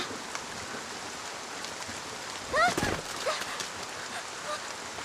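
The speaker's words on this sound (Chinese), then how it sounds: "今日雨水较大，院子里有些积水" Heavy rain pours steadily over a courtyard, a constant broadband hiss filling the whole scene, with a brief voice and small sounds rising over it midway.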